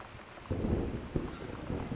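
Low rumbling thunder rolls through the video game Gone Home, a dull, muffled rumble in a storm with rain hiss, rising in short swells.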